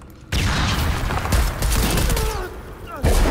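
Heavy gunfire in Shadow of the Tomb Raider: a sudden burst of rapid shots and booming impacts breaks in, rumbles on loudly, then erupts again at the end.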